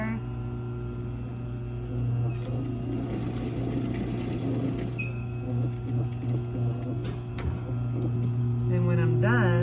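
A sewing machine stitching bias binding onto a garment armhole runs in a steady, close mechanical whir with rhythmic needle clatter, while someone talks over it throughout.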